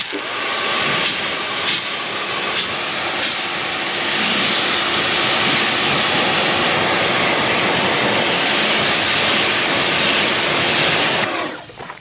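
A pressure washer rinses the wheels of a Subaru Forester STI SG9, a loud, steady broadband hiss of spraying water running nearly the whole time with a few brief spurts at the start, cutting off near the end.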